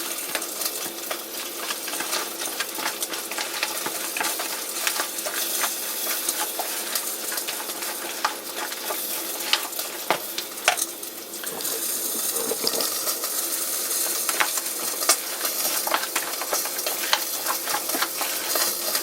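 Food frying in a pan on medium heat gives a steady, dense sizzle throughout, close and fairly loud, with scattered sharp clicks and scrapes from stirring and no talking.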